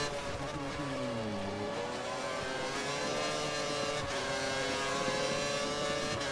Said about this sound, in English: I got that gravel noise.